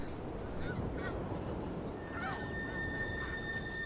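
Snow geese honk in flight during a long northward migration, faint scattered calls over a steady loud wash of wind or wing noise, with a thin sustained tone near the end.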